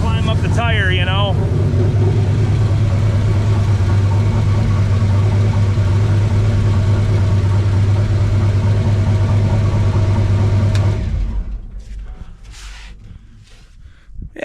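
A turbocharged junkyard LS 5.3 V8 in a mega truck, fitted with a 5-inch exhaust out the fender, idles loud and steady with a deep rumble for about eleven seconds, then drops away quickly.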